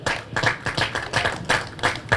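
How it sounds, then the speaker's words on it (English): Scattered hand clapping from an audience at a bass fishing tournament weigh-in, a steady patter of claps sounding fairly close and continuing without a break. "Everybody else is clapping except those two ladies right over there."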